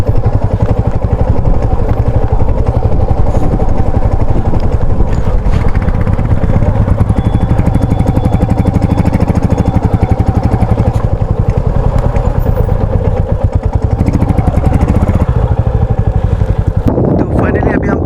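A motorcycle ridden along a high-altitude mountain road between Kaza and Losar, its engine drumming steadily and close with rumble and wind buffeting, a brief louder burst near the end.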